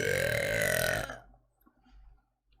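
A woman lets out a long, loud, croaking burp after drinking water, lasting about a second close to the mic, followed by quiet breaths and small mouth sounds.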